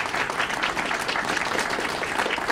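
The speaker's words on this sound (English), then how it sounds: "Let's give our panelists a big round of applause." Audience at a university town hall panel applauds steadily, a dense, even clatter of many hands sustained throughout without pause and without talk over it.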